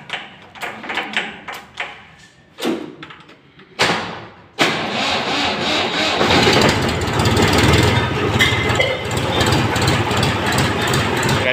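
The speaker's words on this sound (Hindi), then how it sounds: "स्टार्ट करवा के दिखाते हैं आपको," A Mahindra 275 DI tractor engine, cold after standing several days in winter, cranks in repeated bursts before catching, then settles into a loud, steady diesel idle close by.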